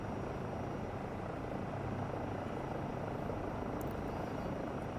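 An EMS helicopter's rotor during an autorotation descent makes a loud, steady, dense roar that holds unbroken throughout.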